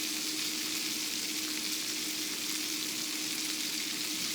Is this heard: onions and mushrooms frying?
yes